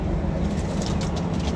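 Pigeons cooing nearby, soft repeated low calls over a constant rumble of background noise.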